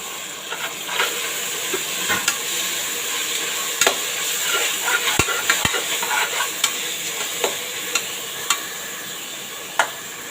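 Fresh mint leaves sautéing in oil for egg biryani give off a steady, close sizzle, broken by frequent light taps and scrapes of a stirring spoon.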